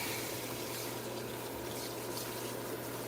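Running water rinses hair extensions that are being prepared for a roller set. The water makes a steady, loud, continuous rushing hiss throughout, with no talking.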